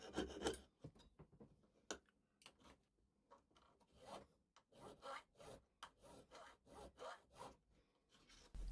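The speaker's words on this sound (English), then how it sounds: "I'm using a jeweller's saw to cut the strip to the length that I've measured" A jeweller's saw with a beeswax-lubricated blade cuts a metal strip, producing a soft, rhythmic rasp of repeated back-and-forth strokes, close and fairly quiet.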